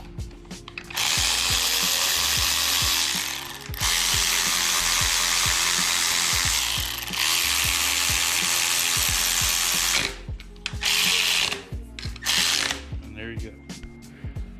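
Power tools tighten parts on a Honda K24 engine block during a budget build, several bursts of whirring drill or impact driver broken by short pauses and ratchet clicks, close and loud.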